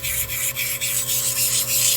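A carnelian cabochon's edges are ground in a rough, rasping rub that pulses in quick regular strokes, close and fairly loud with no talking.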